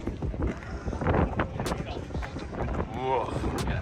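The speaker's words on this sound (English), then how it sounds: "Oh, it's so windy." Gusty wind buffets the microphone outdoors at a Minnesota car meet, a steady low roar with rising and falling surges throughout and no clear speech over it.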